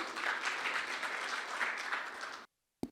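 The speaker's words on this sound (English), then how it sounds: "With wholeheartedly and a round of applause, I welcome Mr. Biju Cherian on the stage." A round of applause from a conference audience welcoming a speaker onto the stage at a business summit, sustained even clapping that stops abruptly, followed by a brief thump.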